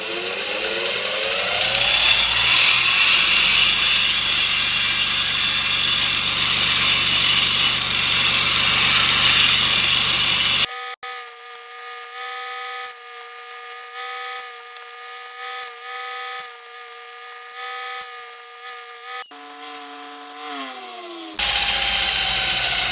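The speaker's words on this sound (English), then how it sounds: "So I've got to prep this by using the grinder," A grinder strips chrome from the ends of golf club shafts, a loud continuous abrasive whine up close that changes pitch as the tool shifts and bites, running almost without pause.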